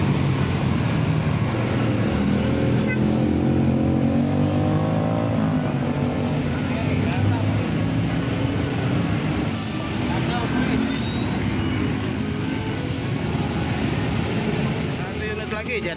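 Intercity buses, including a Jetbus 3 Plus, rumble steadily at a busy terminal during the holiday homecoming rush, with engine drone and brake hiss throughout and someone talking over them.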